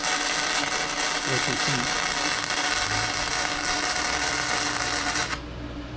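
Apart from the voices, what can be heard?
YESwelder 205DS welder making weld puddles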